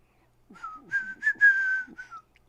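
A person whistles a short melody, clear and close, the notes gliding and held in one bright phrase for about two seconds, with no speech around it.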